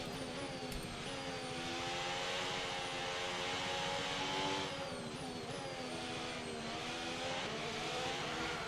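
A Formula 1 car in a racing video game revs hard and shifts gears, its high engine whine rising and dropping with each shift over about nine seconds, loud and continuous.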